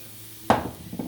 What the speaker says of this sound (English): Put this in, and again, you'll just fry it till it softens or softens.